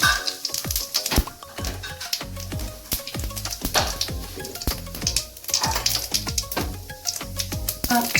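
Cumin seeds tempering in hot oil in a wok, a rapid stream of sharp pops and crackles over a soft sizzle, close and lively throughout.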